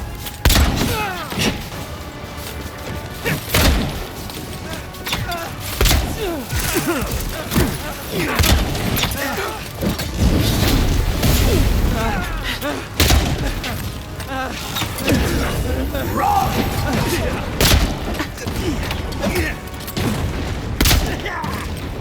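Gunfire in the video game Avowed, a dense fusillade of loud booming shots and thuds layered over rumbling effects, firing repeatedly in irregular bursts for the whole stretch, with occasional voices mixed in.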